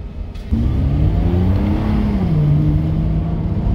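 A Nissan GT-R NISMO engine revs up and holds a loud, rising growl, the pitch climbing and sweeping as it accelerates close by, at night in Tokyo.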